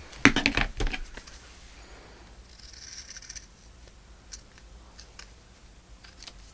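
Scissors cut paper for a handmade journal closure with a quick crisp snipping burst up front, followed by quieter rustles and light handling clicks close by, with no voices.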